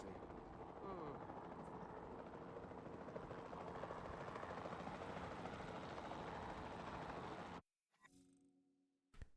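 Capture helicopter in the video game Jurassic World Evolution 2 whirs with a steady rotor drone under a spoken voice, then cuts off abruptly near the end.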